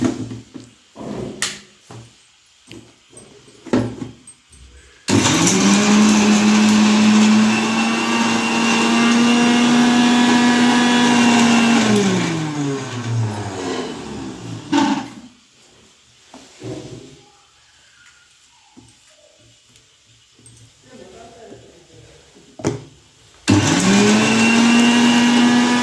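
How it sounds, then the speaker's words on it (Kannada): A kitchen mixer grinds mint chutney without water in loud, steady bursts, its motor whine rising and then winding down, with clattering and knocks between runs and another burst starting at the end. "ನೀರು ಹಾಕೋಂಗಿಲ್ಲ, ಹಂಗೇನೆ ಹಂಗೇನೆ ರುಬ್ಬು"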